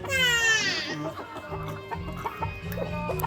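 Several red chickens cluck and squawk close by, one loud drawn-out call at the start followed by rapid overlapping clucks.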